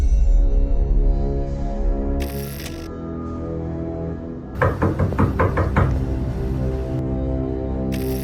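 Mysterious knocking on a door in Sukabumi, West Java comes as a quick run of about six sharp, loud raps midway, set against a low musical drone with brief noise bursts.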